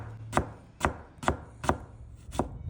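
A kitchen knife chops through food on a board in five evenly spaced, crisp strokes, close and clear with quiet pauses between cuts.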